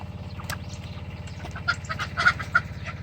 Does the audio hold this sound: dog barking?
no